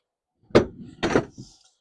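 A seat cushion on a 2025 Boston Whaler 210 Vantage boat is flipped back up into place, giving two close, solid thumps followed by a softer settling knock.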